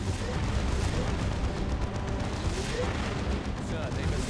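Baneblade super-heavy tank firing its las cannon in a Dawn of War 2: Retribution battle against Eldar, heard as dense, continuous booming blasts and explosions with a commentator talking through them.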